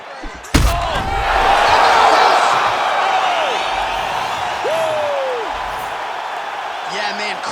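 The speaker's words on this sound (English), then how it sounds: "Yeah, man, crowd loving it." An arena crowd roars as a UFC Fight Night bout ends with a knockout blow, opening on a sharp thud before the cheering swells loudly and then eases off, with commentators talking over it.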